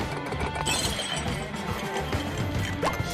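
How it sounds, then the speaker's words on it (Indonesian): Objects smash and break in a SpongeBob cartoon scene, making a dense, continuous jumble of shattering, clinking and crashing at steady loudness, with no speech. "satu persatu barangnya rusak dan hancur tak karuan"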